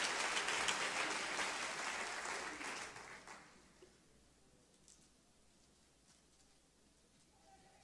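Church congregation clapping hands together as they sit down, a dense burst of applause that carries for about three seconds before tapering off into a quiet room.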